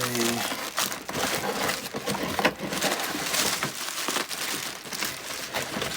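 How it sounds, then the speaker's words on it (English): Packaging around a Canon SL3 camera being pulled off, a dense run of crinkling and rustling plastic and paper with scattered sharper crackles, close and fairly steady throughout. "So let's get this packaging out the way."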